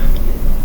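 A single short, sharp cough bursts out near the end, loud and close after a moment of quiet room tone.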